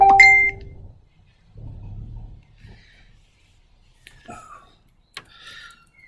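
A phone gives a bright electronic beep at the start, followed by faint rustling and a few soft clicks while it is handled and muted.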